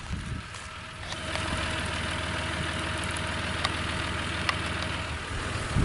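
A ranch tractor putting out hay for cattle runs close by at a steady idle, its low throbbing engine drone constant, with a few sharp knocks.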